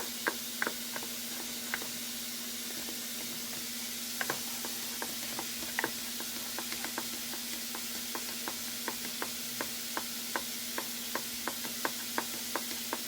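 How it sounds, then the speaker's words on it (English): A spoon stirs thickening gravy in a pan, making a series of small, sharp scrapes and taps at an irregular pace over a soft, steady sizzle and a faint constant hum. "It's getting a little harder to stir."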